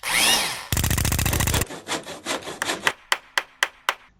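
A metal patch for a Triumph TR6 sill is cut: a brief scrape, then a dense burst of rasping strokes, followed by a run of sharp, evenly spaced cutting snaps, close and clear.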